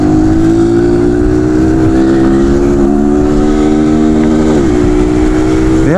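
A Honda Bros motorcycle revs hard up close, its engine note climbing steadily before a quick gear change drops the pitch and it pulls on again, loud and continuous with no talk.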